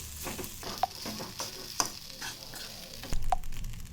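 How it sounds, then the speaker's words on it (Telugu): Crumbled idli powder being stirred in a hot pan for upma, with a soft, steady sizzle and a few sharp scrapes and taps of the spoon against the pan, close and with no talking. "ఇప్పుడు మెత్తగా చేసుకున్న ఇడ్లీ పౌడర్ వేసుకోవాలి సార్ బాగా కలుపుకోవాలండి"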